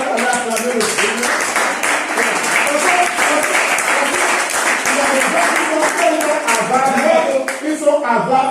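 A church congregation in Brazzaville applauding and cheering the Lord, dense clapping mixed with voices and shouts throughout, loud and steady.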